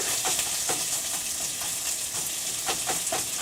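Beef frying hard in a home frying pan for a sesame ginger beef stir fry, a steady loud sizzle and hiss with faint stirring scrapes running throughout, no talking.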